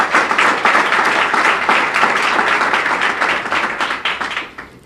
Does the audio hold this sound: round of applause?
yes